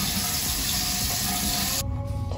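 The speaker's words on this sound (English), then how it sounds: "So I'm gonna wash this off now." Tap water running steadily into a sink while face cleanser is rinsed off, a close, continuous splashing gush that cuts out near the end.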